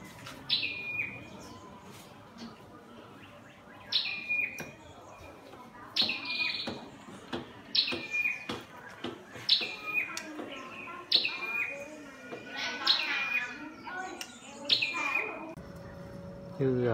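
Caged Oriental magpie-robins and red-headed songbirds give bright, sharp chirping calls in short bursts every couple of seconds, fairly close, over a soft background of scattered clicks and rustles.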